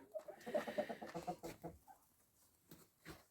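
Chickens and roosters cluck and call in a short burst of rapid, overlapping notes, then trail off into a few scattered clucks.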